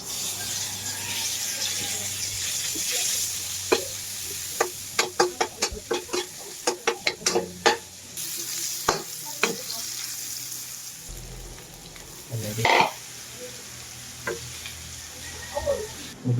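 Octopus fries in a pan with garlic and onion, sizzling steadily while a utensil scrapes and clacks against the pan in a quick run of sharp knocks, with occasional pouring water and a voice briefly in the background.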